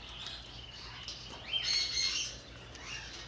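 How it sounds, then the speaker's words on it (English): A small bird chirps outdoors in several short, high tweets and a rising squeak, faint and fairly close against quiet ambient background, with no one talking. "Oh, there's another bird right there."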